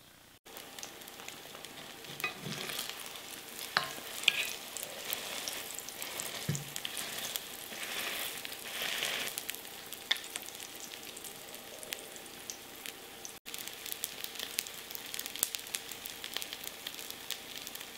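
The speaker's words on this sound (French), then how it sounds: "je vais faire une forme d'escalope que je vais simplement frire dans de l'huile d'olive, comme ceci." A seitan escalope frying in olive oil, a steady close sizzle with fine crackling and occasional sharper spits, continuous throughout.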